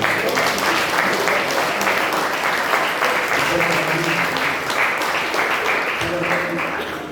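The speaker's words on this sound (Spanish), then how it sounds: "Denle un aplauso fuerte al comité." A church congregation applauds the committee at a Mexican evangelical training gathering in Huejutla, with steady, dense clapping filling the room for several seconds and voices mingled underneath.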